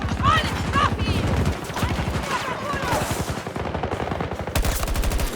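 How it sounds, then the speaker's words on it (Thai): Rapid automatic gunfire rattles in Battlefield 2042, close and loud bursts of machine-gun fire running through the clip while someone talks over them. "ยิงอีกสักนัดดีไหม"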